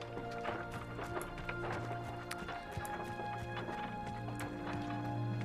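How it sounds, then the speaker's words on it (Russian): Hooves of thestrals pulling a carriage in a video game, a continuous clip-clop of trotting steps with scattered knocks and rattles under a dense, steady game soundscape, moderately near and fairly loud throughout. "I've always thought Thestrals pulling a carriage a bit grim."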